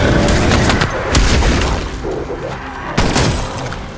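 A death machine minigun in Call of Duty Zombies fires a loud, dense, continuous stream that fills the whole clip, with heavy booming impacts and a sharp crack near the end.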